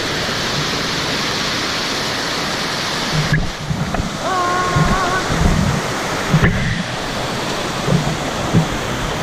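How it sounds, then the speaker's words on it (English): Rushing water at Mae Sa Waterfall pours in a constant, dense roar close by, with a faint voice briefly audible beneath it. "And now we're here at the waterfall."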